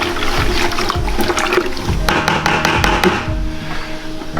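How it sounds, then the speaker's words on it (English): A wooden spurtle stirs sugar into three gallons of water in a bucket for hard apple cider, giving a continuous sloshing, swishing churn with light scraping knocks, close and steady throughout. "Stir with a spurtle made by Papa Don"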